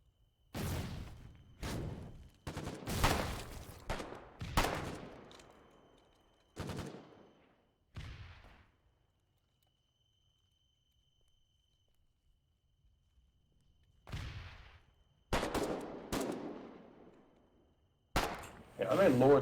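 Bursts of gunfire in the war video game Foxhole, rapid cracking volleys separated by long silences, loud and close, with some brief voice chatter between shots.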